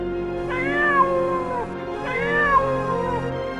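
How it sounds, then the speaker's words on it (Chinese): A cartoon cat meows twice, two loud drawn-out cries about a second and a half apart, close and clear with nothing else over them. "不，是我家的猫叫声。"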